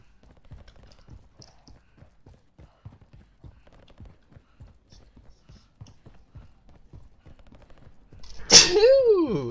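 A single loud, close sneeze bursts out at the very end, right after a long run of faint, steady clip-clopping hoofbeats.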